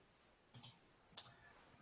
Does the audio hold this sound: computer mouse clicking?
yes